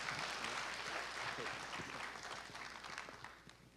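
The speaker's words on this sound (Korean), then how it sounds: "한번 격려의 박수 보내드릴까요?" Church congregation gathered for a Christmas service clapping together in a steady burst of applause, filling the room at moderate distance and tapering slightly toward the end.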